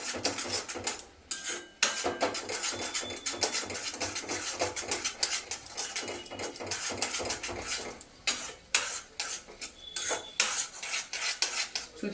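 Semolina pulao is stirred in a pan over high heat, with a metal spoon scraping and clinking against the pan in quick, continuous strokes, close and fairly quiet, with brief pauses.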